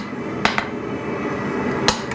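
Two sharp metallic strikes, each followed by a quick lighter tap, ring out over a steady background hum as a blacksmith hammers a chisel held flat on an anvil while forging tongs.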